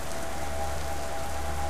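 Rain in the horror video game Kraven Manor falls as a constant, even hiss, alone, with no voices.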